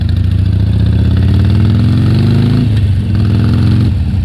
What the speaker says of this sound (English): A Sportster with an aftermarket exhaust. It sounds really great.